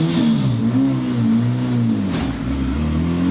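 A cheap eBay Honda Civic launching without two-step for a quarter-mile race, engine droning loud and close with a rising and falling rev pitch as it pulls, a brief dip near the end before climbing again.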